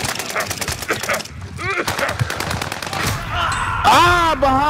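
Rapid automatic gunfire in a shooter video game, loud, dense bursts of shots across the whole stretch, with players talking over and between the firing.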